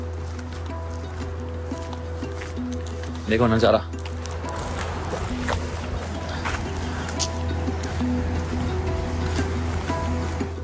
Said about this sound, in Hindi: यहाँ खड़े खड़े भी इतनी आवाज़ आ रही है नदी की